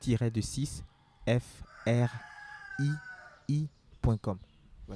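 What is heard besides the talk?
rooster crowing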